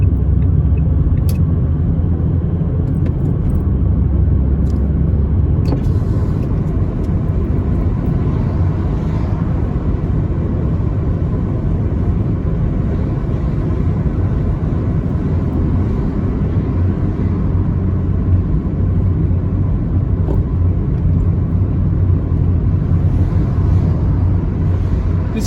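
A car drives along a quiet road, a loud, continuous interior rumble of engine and tyres, steady throughout with a few faint clicks early on and no voices.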